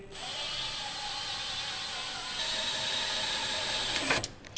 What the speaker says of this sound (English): I've put the drill bit onto the drill.